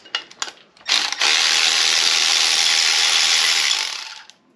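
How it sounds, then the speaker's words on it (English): Ratchet loosening bolts on a Fiat 124 engine block: a few quick clicking ratchet strokes, then a long continuous whirring rasp of the ratchet spun fast, close and loud, no speech. "Break it loose with that. Grab our ratchet."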